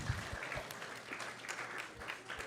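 An audience at a Krishna Katha gathering claps in sustained, dense applause, the many hand claps blending into a steady moderate patter for a few seconds with no voices over it.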